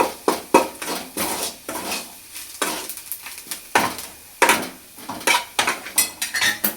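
A spoon scrapes and clinks against a pan, stirring a gram flour (besan) mixture for onion chutney. The metallic strokes repeat in a busy, irregular rhythm, loud and close, with a faint sizzle underneath and no talking.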